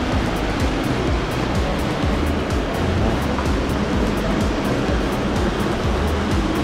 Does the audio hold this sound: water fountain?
yes